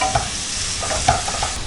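Green chillies sautéing in hot oil in a pan, a steady broadband sizzle with a few scraping stirs of a spoon against the pan, close and fairly loud, with no voices.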